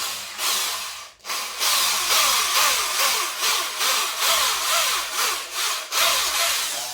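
A Fisch 10-inch drill with its bit boring into iron: a steady, close grinding whine with rhythmic surges as pressure is applied, continuing almost without pause and without talk.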